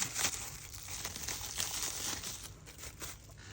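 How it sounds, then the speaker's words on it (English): Plastic packaging being sliced open with a slim folding knife, a close, steady crinkling and tearing rustle with small irregular scrapes lasting throughout, no voices. "use my slim line that I'm carrying here to cut open this plastic"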